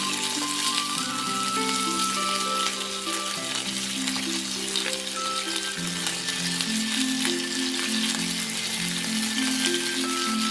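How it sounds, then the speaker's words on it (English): XO sauce glaze bubbles and sizzles over salmon fillets in a pan, a dense, continuous frying hiss with faint crackles, loud and steady throughout while soft background music plays. "Let the sauce gently bubble and caramelize for about a minute, continuously basting the fillets"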